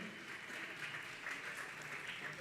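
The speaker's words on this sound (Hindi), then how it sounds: "आप जोरदार ताली बजा के पंचायत सभा भोपाल के पदाधिकारियों का सम्मान करें।" Applause from a seated audience honoring panchayat assembly officials from Bhopal at a religious Q&A gathering, a steady, dense wash of clapping held at moderate distance without pause.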